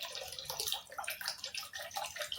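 Vinegar, a quarter cup, poured onto olives being pickled at home, a soft close splashing trickle that comes in uneven bursts, quiet and without talk.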